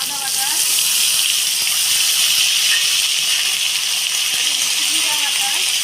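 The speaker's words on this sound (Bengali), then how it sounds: "এই যে আমি দিয়ে দিচ্ছি আদা বাটা" Ginger paste hits hot oil in a pan for a fish curry, setting off a loud, steady, hissing sizzle. It stays even and unbroken from start to finish.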